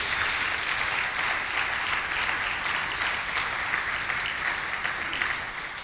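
A church congregation claps steadily in sustained applause honoring the King of Kings during a sermon, a dense, even wash of many hands that holds throughout and tapers slightly at the end.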